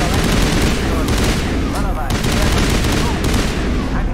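Dense, nonstop automatic gunfire and explosions rattle through a Mass Effect battle, a loud unbroken barrage with a brief voice heard over the shooting.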